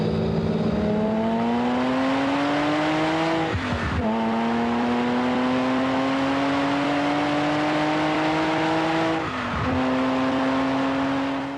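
Lamborghini driven hard at high speed by a test driver, engine note climbing steadily through long gears with two sharp shifts, loud and close from inside the car, no talking.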